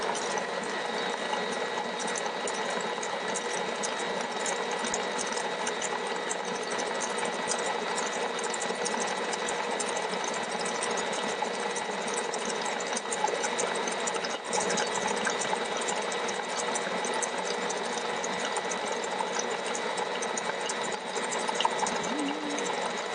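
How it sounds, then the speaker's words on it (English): An electric stand mixer runs steadily while making turtle cookie dough, a continuous mechanical whir with a faint rattling texture that holds unbroken throughout with no talking. "I have just shut off the mixer"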